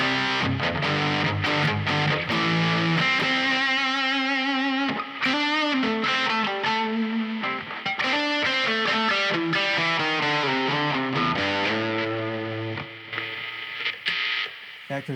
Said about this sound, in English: And then if we turn on a rat type distortion, we get.